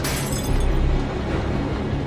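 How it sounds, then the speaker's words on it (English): In a TV drama, a glass is thrown and shatters, giving a dense crashing burst of breaking glass over a loud rumbling background that fills the whole short stretch without any speech. "He's throwing that glass,"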